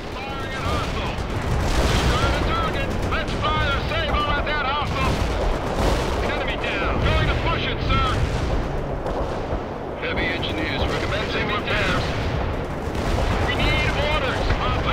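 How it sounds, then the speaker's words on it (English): Mortar and artillery fire in World in Conflict rumbles without a break, with dense blasts and booms that sound near and loud, over a busy game soundtrack and some radio voices. "You have incoming fire"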